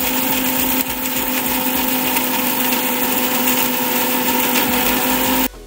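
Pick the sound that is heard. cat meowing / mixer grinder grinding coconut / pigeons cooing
mixer grinder grinding coconut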